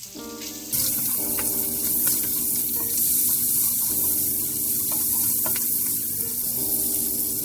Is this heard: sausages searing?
yes